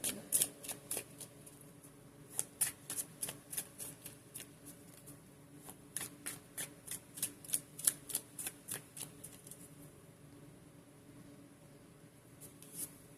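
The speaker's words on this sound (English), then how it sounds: "We'll go ahead and give a really good shuffle to this one." Tarot cards are shuffled by hand in a long run of quick, crisp riffling snaps, close and fairly soft, with brief pauses between bursts.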